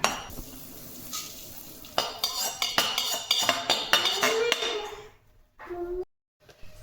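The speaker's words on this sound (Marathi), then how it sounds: "आता हे भाजलेले धने मी ह्या गमिल्यात काढून घेते" Roasted coriander seeds are scraped from a hot pan into a bowl, a run of rapid metallic clinks and scrapes of a spoon on the pan, near and clear, ending in quiet with a final clatter.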